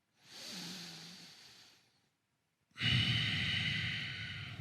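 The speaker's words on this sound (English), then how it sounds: "2 breaths here." Two slow, deep breaths held during a yoga twist pose, a long airy inhale then, after a short silence, a fuller, louder exhale, close and alone without speech.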